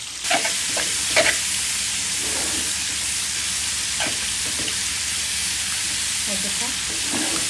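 Shredded green papaya bhaji stir-fries dry with no water added, producing a loud, continuous sizzle close by, with occasional spatula scrapes and stirring clatter across the pan.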